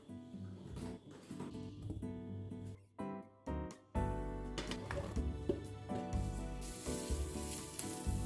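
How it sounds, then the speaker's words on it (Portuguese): Onion and corn sauté in butter in a frying pan, giving a steady sizzle with clinks and stirring scrapes, briefly interrupted, then returning louder and fuller. "eu vou usar agora manteiga pra gente refogar a cebola e o milho"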